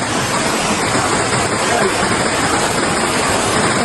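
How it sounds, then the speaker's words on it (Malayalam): Rain-swollen stream water rushing down from higher ground through a flooded plot after heavy rain, a dense, continuous roar filling the scene. "കണ്ടോ നമുക്ക് അവിടുന്ന് ഇത് മേലിന്ന് വരുന്ന വെള്ളവാ."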